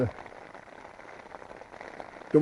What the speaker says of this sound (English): the rain before they go over Ingleborough, and they're dumping it right on top of me at the moment